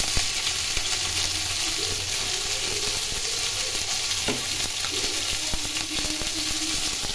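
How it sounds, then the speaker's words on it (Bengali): Whole cumin seeds temper in hot oil for a Bengali-style vetki fish curry, giving a loud, steady, close crackling sizzle with no voices. "তেলের মধ্যে জিরে ফোড়ন দিলাম"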